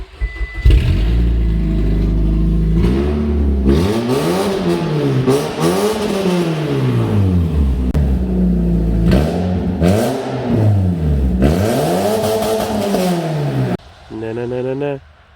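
A loud 2008 Subaru Outback engine revs repeatedly, its roar swelling and falling in several rising and dropping sweeps up close, with someone speaking over the din near the end.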